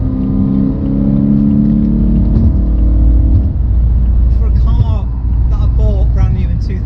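A 2011 BMW M3 with a 420-horsepower V8 rumbles loudly and steadily, its deep drone climbing slightly in pitch before easing off, with a voice talking over it partway through.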